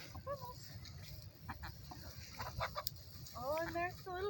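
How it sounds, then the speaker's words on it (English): A backyard rooster clucks in short bursts among faint hens, some close and some farther off, with low rumbling noise underneath and no speech. "The rooster."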